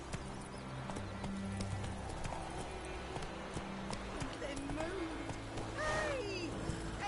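Horse Roach galloping in The Witcher 3 video game, with steady clip-clop hoofbeats running throughout and a brief whinny near the end, under game music and a voice.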